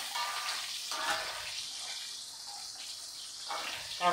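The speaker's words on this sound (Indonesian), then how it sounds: "Bismillah, kita goreng terong." Round eggplant sizzling as it fries in a pan in a home kitchen, a steady bright hiss that swells near the end, with no voices.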